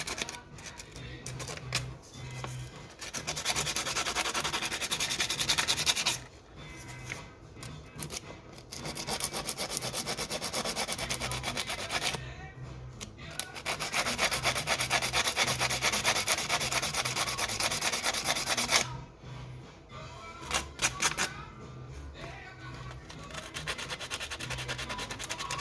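Abrasive sanding cleans the electrode of a spark plug from a 3 hp Briggs and Stratton engine on a Montgomery Ward edger. Close, quick scratchy rubbing strokes come in long bursts separated by short pauses.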